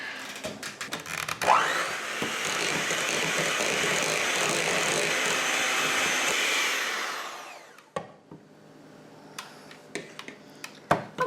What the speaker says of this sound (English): hand mixer to blend this all together to get a pudding consistency